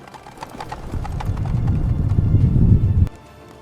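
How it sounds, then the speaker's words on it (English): A sheriff's horse on a dusty road, with rhythmic clip-clop hoofbeats building to a loud, steady trot, then stopping abruptly. "watching his master ride down the dusty road, until the shape of sheriff and horse shrank to a speck and disappeared over the hill"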